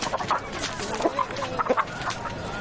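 A fighting rooster being readied for a cockfight clucks in short, repeated bursts over a noisy outdoor background.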